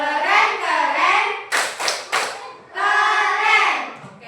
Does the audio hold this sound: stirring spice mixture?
no